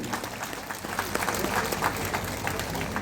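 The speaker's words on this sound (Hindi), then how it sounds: "तो आप थोड़ा उनके लिए भी ताली दे दीजिए" Audience applause at a hospital inauguration ceremony, a steady wash of many hands clapping that fills the whole moment at moderate level, with no pauses and no clear voices above it.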